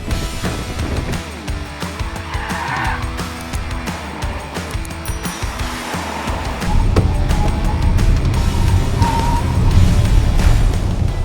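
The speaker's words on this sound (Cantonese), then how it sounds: "咁我哋而家咧就將架車試下揸俾大家睇。" An Audi Q4 e-tron 40 electric SUV drives on the road, a steady broadband rush of tire and wind noise inside the cabin that grows louder midway with rising speed.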